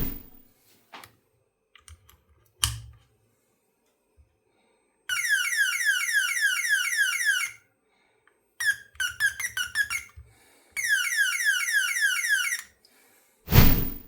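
Electronic alarm tones from a 555 timer circuit in rapid rising sweeps, repeating in loud bursts separated by short silences and a few clicks.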